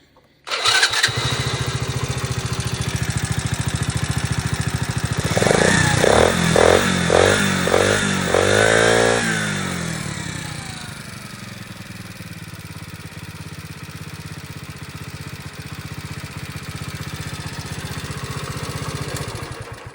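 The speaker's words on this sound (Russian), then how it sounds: "Ну что, заводим, проверяем." A Chinese Delta moped engine, after a piston replacement, sputters to life with a sharp start, revs up and down in several rising bursts, then settles into a steady, clattering idle.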